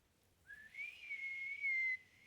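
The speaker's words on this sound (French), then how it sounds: "Siffle pour voir." In the video game Ghost of Yotei, a single sustained whistled tone rises at the start and holds steady for about a second and a half, clear and alone against a quiet background.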